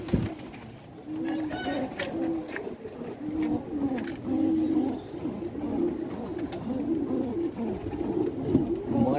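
Pigeons cooing, repeated low throaty coos in a steady rhythm from several birds nearby, with faint background noise and no speech.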